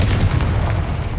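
A Confringo fire-blast spell bursts in Hogwarts Legacy as a heavy, rumbling boom that fills the whole moment, loud and close, with a dense low roar and no clear pauses.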